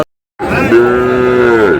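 A single loud, drawn-out moo from Sahiwal cattle at a cattle market in Chattogram, starting after a brief silence and holding steady for over a second.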